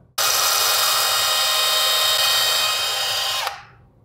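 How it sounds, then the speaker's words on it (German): A power drill in normal drilling mode, not hammer mode, whines steadily for about three seconds, loud and close, boring through porcelain stoneware tile, then cuts off and winds down. "die Bohrmaschine bitte nicht auf die Schlagfunktion, sondern auf die normale Bohrfunktion stellen"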